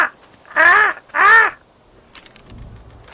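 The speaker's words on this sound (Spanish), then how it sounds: "Y el cuervo de los cojones." A crow in The Walking Dead video game lets out two loud, harsh caws in quick succession, followed by quiet with faint low background noise.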